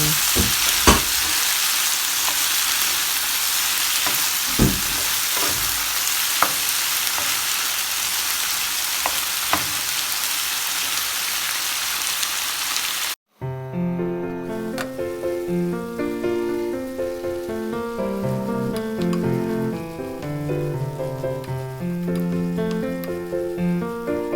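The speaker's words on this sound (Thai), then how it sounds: "ใส่ซีฟูดลงไปผัดนะคะให้เข้ากัน" Seafood stir-fries in a pan for Thai basil stir-fry, with a loud, close, steady sizzle and occasional scraping stir clicks for about thirteen seconds, then a brief cut to music.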